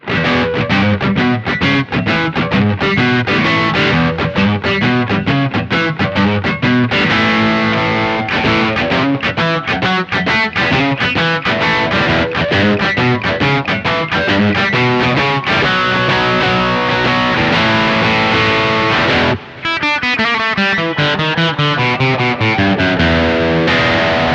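Loud G&L Tribute ASAT Classic electric guitar with overdriven, gritty distortion plays continuous chords and riffs, pausing briefly once before carrying on.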